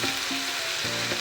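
Fish head and vegetables fry in a pan, a steady close sizzle broken by a few scraping strokes of a stirring spoon.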